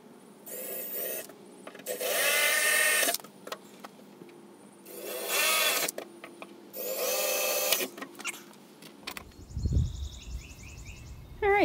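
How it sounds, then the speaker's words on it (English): Loud, whining power drill bursts biting into the fiberglass body of a VW go-kart, three long runs with pauses between, close up, ending with a few knocks and a clatter. "Nothing like drilling into a perfectly good fiberglass body."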